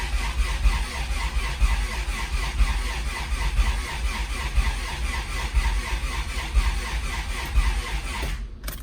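A car engine cranks on the starter, a fast, even, rhythmic whirring and chugging that continues steadily and loudly throughout, then cuts off near the end without catching.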